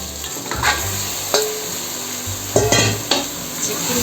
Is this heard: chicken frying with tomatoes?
yes